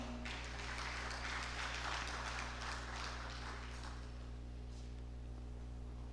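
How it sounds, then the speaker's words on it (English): Conference audience applauding an introduced guest at a session, a few seconds of dense clapping over a steady room hum, fading toward the end. "Please, a round of applause for Dr. Sam Ode, MNI"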